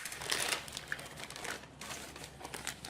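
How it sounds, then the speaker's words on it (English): Close, crisp crinkling and rustling of a large plastic piping bag being cut down to size in a kitchen, with a few faint snips amid the crackle of handled plastic. "here I have a piping bag here, and it's rather large, so I'm going to cut it a little more down to size here"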